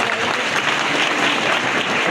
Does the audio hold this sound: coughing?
no